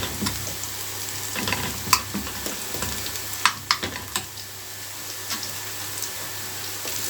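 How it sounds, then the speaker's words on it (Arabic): Garlic sizzles in a spoonful of ghee in a pan, a soft steady frying hiss with a few sharp clicks and stirring taps of a spoon against the pan. "حطيت هنا معلقه ثوم اهيت وحطيت معلقه السمنه واحمرها بقى"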